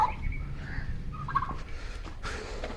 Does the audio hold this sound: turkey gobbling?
yes